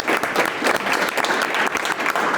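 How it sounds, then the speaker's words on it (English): A live event audience breaks into a strong round of applause, many hands clapping in a loud, dense, steady wash from start to finish. "a huge round of applause"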